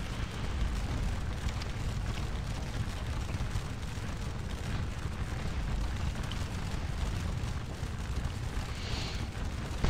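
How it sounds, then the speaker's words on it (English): Napoleonic artillery bombarding troop units at Waterloo in a strategy game, a continuous dense rumble of distant cannon fire and explosions blending into a steady roaring wash. "you can see the artillery is doing a great job of bombing away on these units and driving them back"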